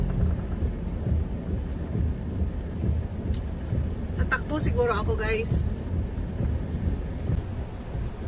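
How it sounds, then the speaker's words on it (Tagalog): Heavy rain pours down in a dense, constant hiss, with a brief stretch of someone speaking over it midway. "Malakas ang ulan."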